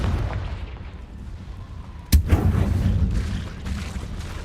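A Confringo blasting spell in a video game goes off as one sudden sharp blast followed by a rumbling boom and crackling tail, preceded by low background hum.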